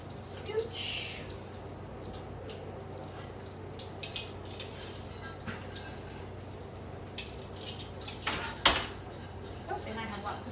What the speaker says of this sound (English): Make sure my pans are all out of the oven.